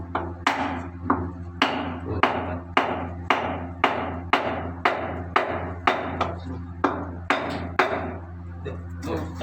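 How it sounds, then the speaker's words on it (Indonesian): A hammer strikes a wooden block again and again while a piston is fitted into a Yanmar 6KFL engine. The blows land in a steady rhythm of about one and a half per second, close and sharp over a low, constant hum. "Ini kayu sama palu."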